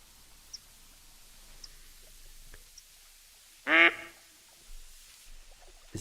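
A duck quacks once in a short, loud burst during a duck hunting video game, set against quiet ambience with a few faint clicks.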